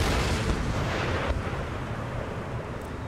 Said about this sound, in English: Oh, it's a lot of shells landing near them.